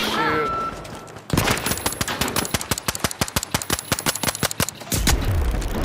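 Gunfire in The Finals, a competitive shooter game: a rapid, loud burst of roughly twenty sharp evenly spaced shots lasting several seconds, with game ambience before and after.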